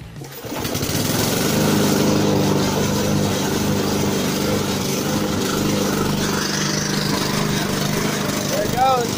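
Lawn mower engine fitted with an unsuppressed, unmuffled exhaust, running loud and steady at close range for the whole stretch, a harsh continuous roar with little variation.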